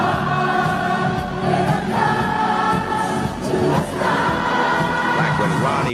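A large concert crowd singing a song in unison, a loud, dense wash of many voices holding the melody steadily for several seconds with no pauses.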